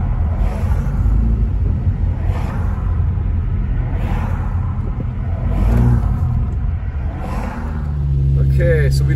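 A car rolls through snowy side streets in Big Bear during a snowfall, its engine a steady low rumble with tire noise and occasional whooshes, heard from inside the cabin.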